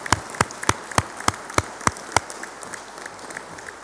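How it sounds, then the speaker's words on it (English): Clapping at a continuing, professional, online and distance learning graduation ceremony, heard as a handful of sharp, separate claps spaced about every third of a second, then fading into a faint, patchy spatter. "I'd like to give you a personal applause, right?"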